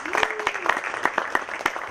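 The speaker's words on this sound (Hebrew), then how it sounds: "חבר'ה, כפיים לאורית לבב." An audience at an electronic music master class claps, a thin scattering of individual hand claps at an uneven rhythm with a brief voice in the background.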